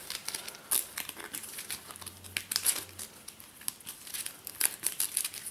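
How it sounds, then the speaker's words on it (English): A Pathfinder: Rise of the Runelords card game deck being shuffled by hand, with repeated crisp papery riffles and slides in irregular bursts close by. There is no talking. "And then we have to shuffle her deck."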